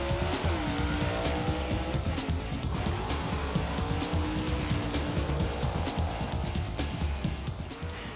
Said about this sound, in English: Green and gold lights called Christmas trees signal the cars to take off, and they do.